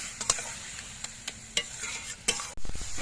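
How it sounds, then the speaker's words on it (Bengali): Cabbage cooks in a pan with a little sugar while a spoon scrapes through it in sharp, irregular strokes over a soft sizzle, ending in a louder burst of frying. "বাঁধাকপিগুলো রান্না করতে করতে দেখুন সুন্দর একটা পাক উঠে গেছে"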